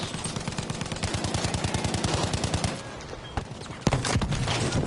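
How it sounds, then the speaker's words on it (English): Suppressive machine gun fire in Battlefield V, a rapid rhythmic burst of evenly spaced shots for a few seconds, then a pause broken by isolated loud reports and a heavy blast. "Never heard of suppressive fire until this."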